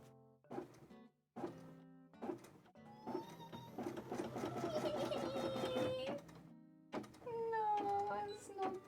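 A sewing machine stitches embroidery onto a cosplay costume in short bursts, then a longer steady run, with people talking and laughing over the whirring motor.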